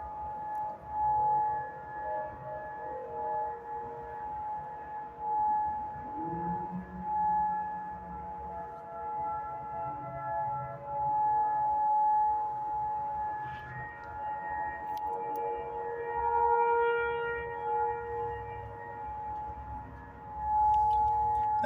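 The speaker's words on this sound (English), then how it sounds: "I guess they're doing their tornado siren test." Tornado siren test in Moore, Oklahoma: a steady wailing civil defense siren drones on continuously throughout, its tone rising and falling slightly, heard from a distance over faint ambient background.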